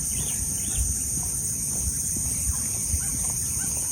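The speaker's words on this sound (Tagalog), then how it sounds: "Mga karamihan kuliglig." In the morning, a steady, high chorus of crickets trills continuously in the background, with faint scattered calls and low rumbling underneath, no voices.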